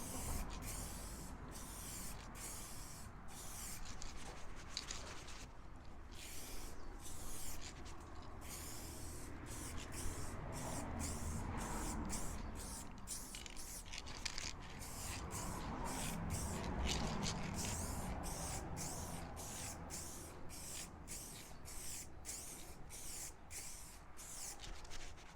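Quick-drying camo paint sprayed onto a 1/6 scale Armortek Hetzer Jagdpanzer 38 model, faint repeated short hissing bursts in an irregular rhythm over soft background noise.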